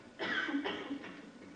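A few short, harsh coughs close by, three bursts in quick succession that trail off into quiet breathing.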